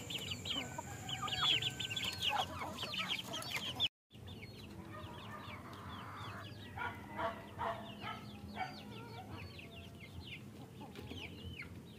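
Rhode Island Red chickens cluck and call from inside a crowded two-month-old grow-out coop, a steady flock chatter with overlapping clucks, continuous and fairly close, a short dropout near the four-second mark, no talking.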